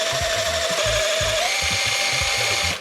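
An electric drill stirs pottery glaze in a bucket, a continuous whirring motor with a faint pitch shift midway and rhythmic low sloshing thumps as the paddle churns, close and loud.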